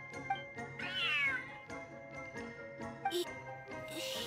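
A large cat in the Genshin Impact video game meows repeatedly in clear, drawn-out calls over light chimes and soft game music.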